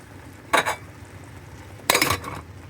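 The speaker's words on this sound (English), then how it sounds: "Put the lid on it and cooking some turkey." Metal lid set onto a cooking pot of boiling rice on a stove, two short clanks spaced about a second apart, close and clear over a quiet kitchen background.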